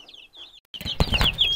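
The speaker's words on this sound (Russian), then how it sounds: "Ну и для начала сразу покажу вам цыплят. Вот какие уже большие цыплята." Crossbred chicks about 19 days old peep in quick high chirps, first sparse and thin, then denser with scuffling and rustling close by.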